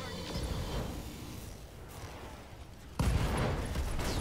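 Mech weapons fire in the BattleTech game Roguetech, a volley of heavy booming shots with a loud burst near the end, over constant battle noise.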